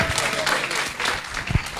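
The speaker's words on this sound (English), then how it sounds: "Can we give a huge round of applause for Benny?" An audience applauds Benny at a listening and one-to-one conversation training, a broad crackle of clapping that rises and dips briefly over a murmur of voices in the room.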